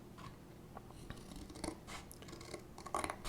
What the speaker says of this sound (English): I'm just using regular scissors instead of my X-Acto blade.